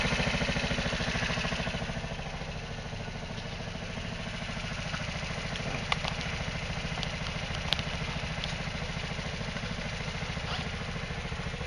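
A hydrogen-fed scooter engine runs steadily with its carburetor drawing air only through the top, giving a continuous close, rattling idle with a few faint clicks and no talk.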